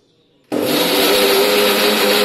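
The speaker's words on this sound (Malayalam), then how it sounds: "ഇനി നമുക്കിതൊന്ന് അരച്ചെടുക്കാം." Blender grinding a tender coconut pudding mixture starts abruptly after a brief quiet moment, then runs as a loud, steady, close whirring drone without any talking.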